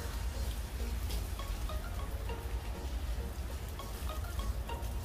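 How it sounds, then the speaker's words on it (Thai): Steady rain falls across a cherry orchard, a dense, even hiss of drops striking leaves and ground with a low rumble under it, continuous and close, with no one talking. "ฝนโอ้ย"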